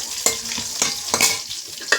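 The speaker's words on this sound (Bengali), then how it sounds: "কড়াইতে আলুগুলো দিয়ে দিচ্ছি ভাজার জন্য" Potatoes fry in a wok with a constant sizzle while a utensil scrapes and stirs in a few sharp, uneven strokes.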